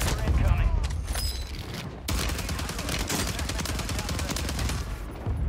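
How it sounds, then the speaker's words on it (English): Rapid automatic gunfire in Warzone 3 rattles in dense, fast bursts through most of the stretch, loud and continuous with brief pauses, set against game ambience. "What are you shooting at me for?"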